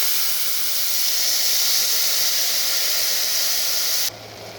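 Curry leaves hitting hot oil tempering in a pan give a strong, steady broadband sizzle that holds loud and even for about four seconds, then drops abruptly to a quieter hiss.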